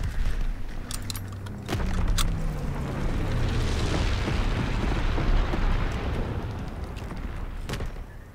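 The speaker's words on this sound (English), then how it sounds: "Dropping incendiary." Incendiary bombs from a low-altitude bomber in Call of Duty WWII explode in a rolling, roaring burst that swells and sustains for several seconds, with a few sharp metallic clicks and pops scattered across it.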